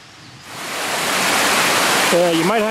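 Water pours and rushes across the floor of an abandoned house in a West Virginia coal town, a loud steady hiss that swells up and holds, with a voice briefly speaking over it at the end.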